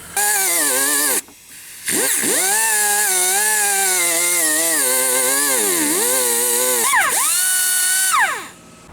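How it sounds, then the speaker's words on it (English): Die grinder whining at high speed while cleaning alternator cable terminals on a Jeep Grand Cherokee HEMI, a loud close tonal scream that briefly cuts out, restarts and wavers in pitch as it bites the metal. "I'm going to go ahead and hit it with the die grinder, clean those terminals up"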